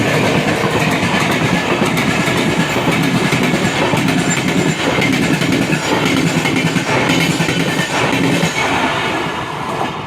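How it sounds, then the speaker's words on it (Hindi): Guwahati–Lokmanya Tilak express train passing at full speed, a loud, close, continuous rumble of wheels on rails with rapid clickety-clack and steady roar for the whole stretch. "सामने से गुवाहाटी लोकमान्य तिलक फुल स्पीड में ओवरटेक करते हुए"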